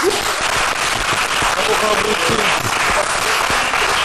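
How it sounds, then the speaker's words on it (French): Audience at a live comedy show applauding a comedian, a dense, loud roar of clapping and cheering with voices mixed in throughout. "Applaudissez pour le neveu national."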